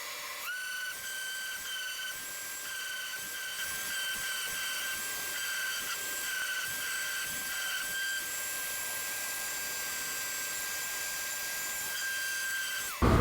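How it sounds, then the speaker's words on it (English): A power sander works the wooden pieces of a squirrel feeder with a steady, high-pitched whirring hiss that holds evenly for over twelve seconds, alone and without talk. "So all the pieces are sanded down to 220."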